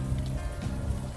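Steady rain falling at night in the video game Unavowed, a dense, even patter that fills the whole moment with no voices over it.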